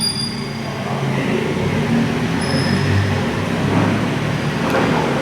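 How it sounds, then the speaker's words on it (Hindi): A departing vehicle rolls away past a residential society gate, heard as a steady loud rumbling, rattling drone with faint high squeal-like tones, continuous from start to end with no talking. "उनकी गाड़ी की आवाज़ सुनिए"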